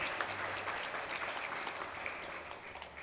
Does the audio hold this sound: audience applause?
yes